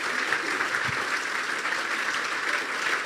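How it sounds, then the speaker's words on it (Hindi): A church congregation applauds loudly and steadily for about three seconds, with dense clapping from many hands and no talk over it. "मैं चाहता हूं इन बातों के लिए हम जोरदार तालियां बजा दें।"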